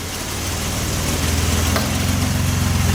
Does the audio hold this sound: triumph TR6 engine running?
yes